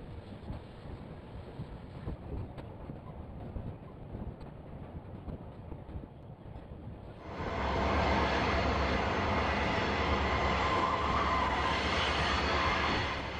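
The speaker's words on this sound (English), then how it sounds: "This westbound with UP power and caboose is a WP train with pooled power." A westbound Western Pacific freight train with pooled Union Pacific locomotives and a caboose passes through the Nevada desert, a distant rumble swelling into a loud, close, steady roar of wheels and cars.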